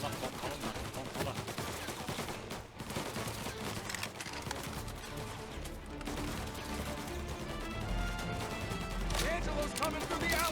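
Shotgun blasts and other gunfire in the Mafia video game, dense and loud, layered with game music, effects and voices throughout.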